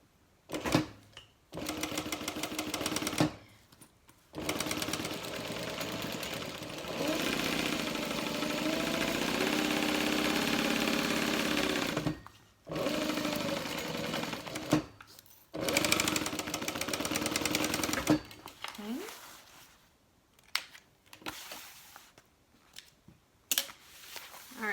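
A sewing machine runs a half-inch seam on a tote bag, its motor whirring in long steady bursts separated by short pauses, close and moderately loud.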